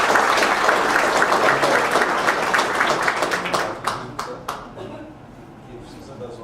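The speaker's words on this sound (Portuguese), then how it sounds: "gostaríamos de dar uma salva de palmas para o nosso deputado" An audience at a public hearing in São Paulo applauds a deputy, a full, close round of clapping that thins into scattered claps and fades out near the end.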